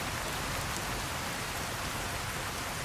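Dense, continuous rainfall in Fallout New Vegas, an even, loud wash of drops with no pauses and no other sounds.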